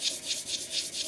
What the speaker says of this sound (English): rather than just sanding in the direction of the rotation of the lathe